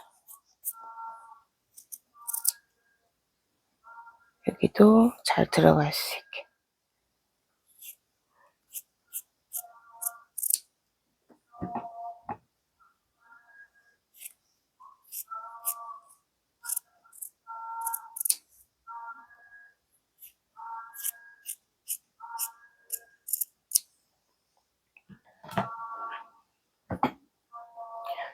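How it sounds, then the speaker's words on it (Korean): Scissors snip notches into a paper bodice pattern, a long series of short, sharp cuts in scattered bursts, close and fairly quiet, with brief quiet speech in between and paper rustling around the middle. "가위밥을 먼저 넣어주겠습니다"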